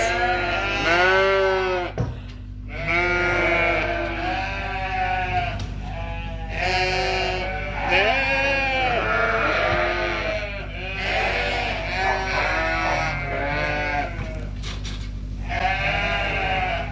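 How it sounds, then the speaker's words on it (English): Ewes bleating in a pasture, a flock calling repeatedly and overlapping, loud and close with a steady low background hum throughout. "we've left the frolicking rams behind, and now we're in with the frolicking ewes"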